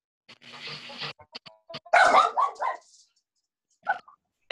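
A dog gives several sharp barks in a quick cluster, close and fairly loud, with a few short yips before and after and gaps of quiet between them.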